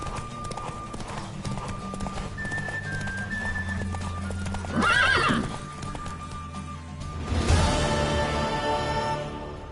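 In The Witcher 3 video game, a horse neighs loudly twice over steady hoof clip-clops and background ambience, with faint voices underneath.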